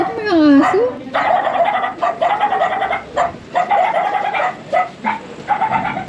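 A dog barks repeatedly in short bursts alongside clucking chickens at a home, with people talking throughout.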